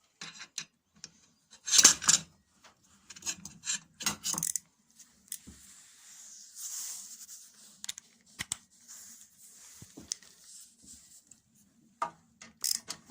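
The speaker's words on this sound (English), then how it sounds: "now we'll change sockets for our 13mm socket" A 13mm socket is swapped onto a ratchet while a Briggs and Stratton 35 Classic lawnmower carburettor is cleaned: scattered close metallic clicks, scrapes and rubbing handling noises in short bursts with pauses between, and no talk.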